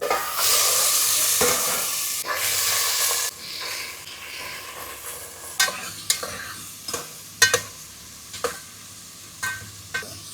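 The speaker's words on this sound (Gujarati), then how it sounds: "તેલ આપણું ફૂલ ગરમ થઈ ગયું છે ડાયરો આપણે તો રાઈ નાખી દીધી જીરું નાખી દીધું હવે આપણે લસણ નાખી દીધું" Garlic drops into hot oil already crackling with mustard and cumin seeds over a rustic village stove, a loud initial sizzle that settles into steady frying with sharp, scattered pops and spatters close by.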